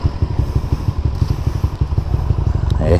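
A motorcycle on the road chugs past in quick rhythmic engine pulses with some clatter, moderately close, with voices faintly in the background.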